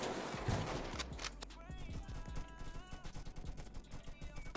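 Rapid bursts of gunfire in the Roblox game Jailbreak, repeated shots and fusillades crackling across the whole stretch alongside game sounds and footsteps, fairly loud and continuous.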